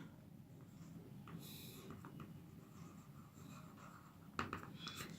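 Pen strokes scratch across paper for a handwritten statement about inertia, a soft continuous scribbling with brief louder bursts of scratching, recorded close and quiet with no talking.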